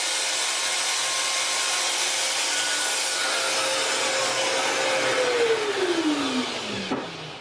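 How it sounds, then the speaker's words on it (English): Router edge-profiling a black ash kitchen table top, a steady loud high-speed whine with broadband cutting noise that drops in pitch near the end as the motor winds down, with no talking. "I could get to the router to start the first stage of edge profiling"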